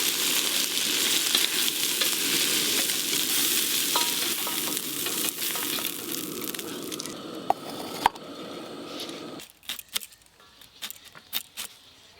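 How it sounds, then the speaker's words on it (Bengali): Shrimp seasoned with turmeric and salt frying in hot oil in a wok, a steady close sizzle with scraping stirs that thins out near the end into a few scattered clinks. "প্রথমে চিংড়ি মাছগুলো ভেজে নেব"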